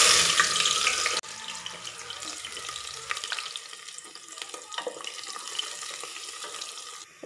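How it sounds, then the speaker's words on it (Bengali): Chopped onion dropped into hot oil in a pan, a steady bright sizzle that starts loud and settles into a continuous crackling fry with scattered pops, close by and with no talking. "তেলটা গরম হয়ে গেছে, এটার ভিতরে দিয়ে দিচ্ছি"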